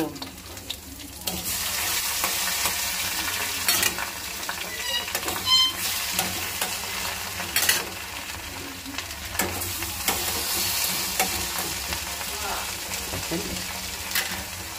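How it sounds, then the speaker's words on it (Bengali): Snakehead fish fry in oil in a home kitchen pan, a continuous sizzle with occasional stirring clatter and brief louder pops, close and moderately quiet. "এই যে মাছগুলো ভেজে নিব।"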